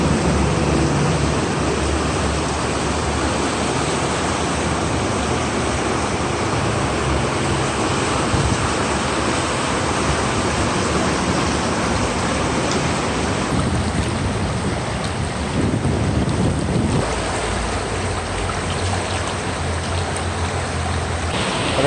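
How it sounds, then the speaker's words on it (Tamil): Floodwater from Chengalpattu lake after heavy rain rushes in a dense, loud, continuous roar, broad and steady with slight surges, mixed with wind buffeting the microphone. "அவ்வளோ ஃபோர்ஸாக வந்து தண்ணி வந்து இங்கே ட்ராவல் ஆகிட்டுருக்கு"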